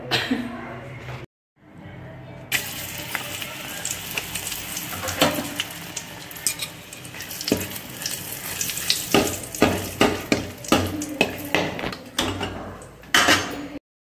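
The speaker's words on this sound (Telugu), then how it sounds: "ఇప్పుడు వచ్చి ఉప్పు మిరపకాయలు అయితే వేపుతున్నాను." Salted chillies fry in hot oil with a loud, close, continuous sizzle and crackle, broken by a brief silence near the start, with popping spatters and stirring clatter toward the end.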